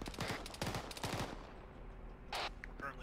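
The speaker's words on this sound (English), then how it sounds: "We're currently receiving fire." Gunfire in the video game Task Force Sabre: Armored Combat, with rapid bursts of automatic shots, a pause, then a few more scattered reports, moderately distant.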